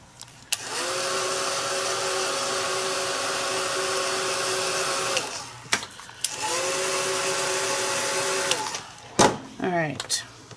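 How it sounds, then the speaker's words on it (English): A heat tool blows loud and steady for two long stretches while heat setting ink, with a few clicks and shuffles and a short stretch of voice near the end. "I'm going to heat set these so that the ink will dry"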